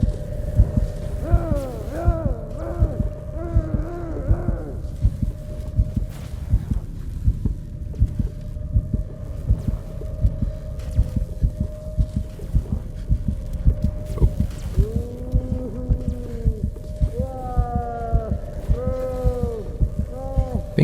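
A heartbeat intensifies in the horror video game Call of Cthulhu, a steady, heavy low thumping that runs throughout beneath eerie droning tones and wavering musical swells.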